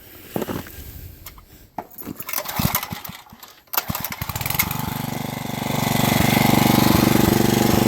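An off-grid engine turns on and settles into a steady drone under load while its alternator charges a battery, starting with irregular clatter and knocks before rising into a loud, continuous hum that runs to the end.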